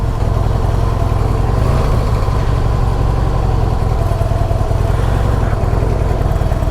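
A Harley-Davidson CVO Pro Street Breakout motorcycle engine running, a loud, steady, deep rumble heard close up for the whole stretch with no talking.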